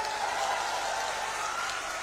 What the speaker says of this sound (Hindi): जोर दी ताली बजाइए जरा।